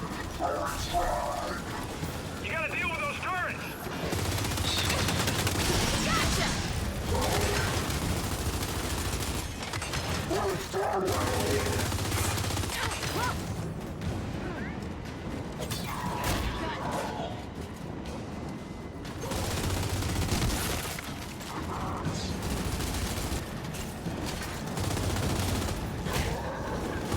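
Enemy turrets firing in the video game Gears 5, with dense bursts of gunfire and mechanical clatter coming in waves throughout a busy battle, and people talking over it.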